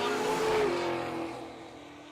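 A Plymouth and a Pontiac GTO drag race cars run side by side at a drag strip, a loud, sustained engine roar that peaks early and then tapers off as the cars pull away.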